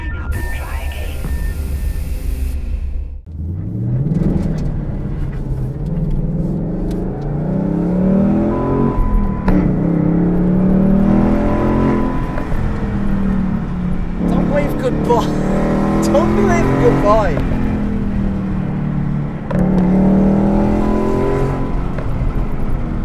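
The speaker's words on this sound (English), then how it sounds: "This is a Ford Mustang 5-litre V8 GT." A Ford Mustang 5-litre V8 GT drives through hills in the south of France, its engine revving and accelerating through repeated gear pulls under steady road noise, with someone talking over it at times.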